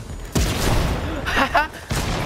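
Gunfire in an online shooter video game, with bursts of loud shots and booms over a couple of seconds, mixed with game sounds and speech.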